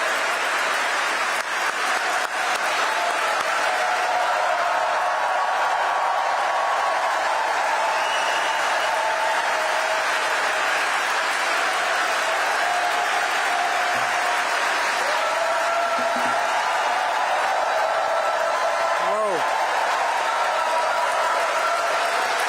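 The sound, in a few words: audience clapping at memorial service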